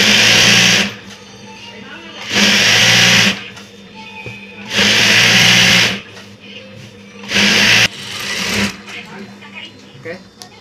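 A sewing machine stitches a foam-layered bed sheet for a ruffled design in four loud, steady runs of rapid whirring, separated by pauses where a person speaks.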